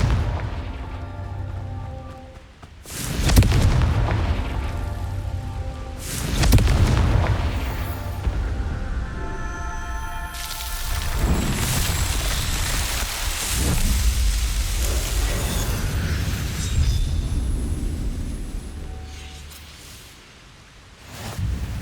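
Confringo blasting spell in the video game Hogwarts Legacy, heard as several loud booming blasts with rumbling, crackling debris that carry through most of the stretch, with no talking.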